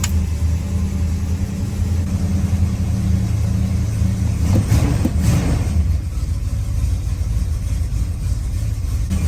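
1965 Chrysler 300L with a 413 V8 idling rough, a loud, close, uneven rumble with a brief rise in revs partway through before it settles back.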